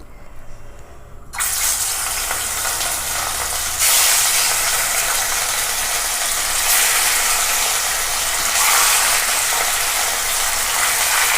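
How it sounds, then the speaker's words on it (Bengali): Katla fish pieces frying in hot oil, a loud sizzle that bursts in after a quiet start and then crackles steadily, swelling in waves, with no one talking. "মাছগুলো আমরা ভাজি।"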